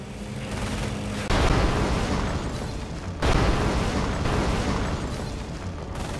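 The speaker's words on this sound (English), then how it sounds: "The bombing run is now inbound." Bombing run explosions in the video game Company of Heroes, two heavy booming blasts a couple of seconds apart, each followed by a long rumbling roll of debris and fire.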